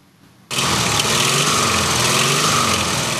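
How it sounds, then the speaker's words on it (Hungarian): Vintage oldtimer car engines at a classic car meet in a town's main square start up abruptly and keep running with a loud, steady, buzzing drone that fills the rest of the moment close by. "A Román Retromobil Klub Kovászna megye fiókja által szervezett találkozóra mintegy 140 oldtimer autó érkezett."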